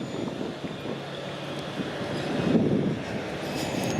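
A commuter train rumbles past at a busy Toronto transit hub, a loud steady rolling roar that swells slightly toward the end, heard close with no talk over it.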